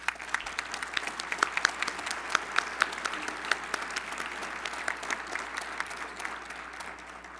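Applause at an opening ceremony welcoming a new board member, a sustained, moderately distant round of many hands clapping, with sharper individual claps standing out over the steady patter.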